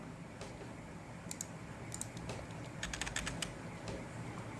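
Keys tapped on a computer keyboard while entering a location into a Google Ads targeting field, several short clustered click bursts over low steady room hum, fairly quiet and close with no talk.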